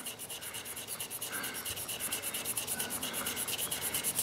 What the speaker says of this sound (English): So I can really start to work that rust off that last little section, that area that's almost impossible to get to.